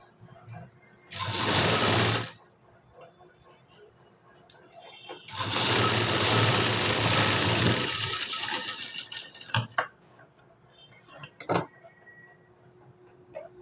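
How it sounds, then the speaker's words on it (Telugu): Sewing machine stitching cloth, two loud whirring runs, a short one then a longer sustained burst, with quieter handling clicks and faint talk between them. "ఇదిగో ఇలా స్టిచ్ చేసుకున్నాం కదా అండి"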